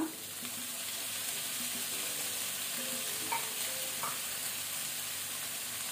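Tomatoes and turmeric fry in ginger garlic paste for a chicken handi, giving a steady, fairly quiet sizzle. Occasional soft scrapes from stirring come through, and no voice is heard.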